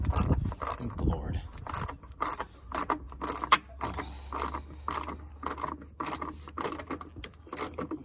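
A ratchet tightens the battery hold-down on a 2013 Ford F-150, giving close, repeated clicking strokes in uneven bursts with small metallic rattles between them.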